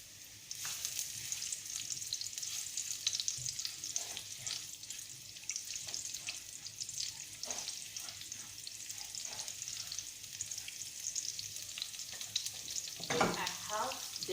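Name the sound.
shallot and diced garlic frying in groundnut oil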